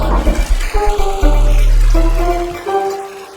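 A toilet flushes nearby with a loud rushing gush of water that swells after a second, holds steady, then fades as the tank refills with a softer running trickle; no one speaks.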